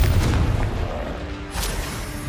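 A Confringo spell in the Hogwarts Legacy video game explodes with a heavy, booming blast, followed a moment later by a second, lighter burst, both loud and close.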